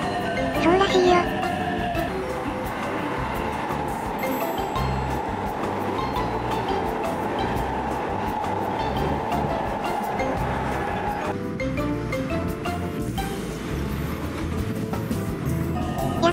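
Inside a moving local train bound for Tennoji, Japan, a steady rumble and clatter of wheels fills the cabin, with occasional clinks and faint chatter in the background.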